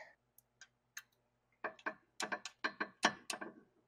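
A gear wrench ratchet fitted with a small extension, working on a Jetta TDI coilover swap, makes a run of sharp, close mechanical clicks, a few sparse ones first and then a quicker rhythmic burst of ratcheting.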